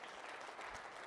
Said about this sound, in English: Little round of applause for the Chinese ping pong team